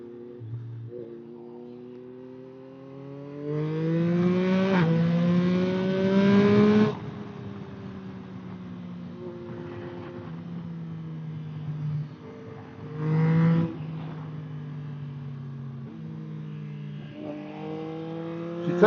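A Yamaha MT-09 SP 2025 motorcycle's engine revs and pulls hard while overtaking, with a rising tone that swells loudly, drops back, then climbs again in close, continuous bursts.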